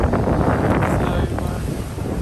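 A wind gust buffets a sailboat far out on the open Pacific, a loud, steady rushing roar across the microphone with the wash of ocean water beneath, easing slightly toward the end.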